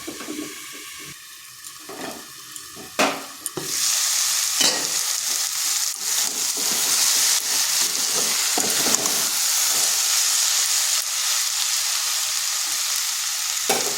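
Cucumber curry sizzles in a pan, with a few clatters and stirring sounds before a lid goes on, then a steady, loud frying hiss continues close by with no voices.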